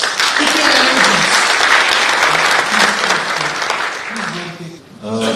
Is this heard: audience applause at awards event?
yes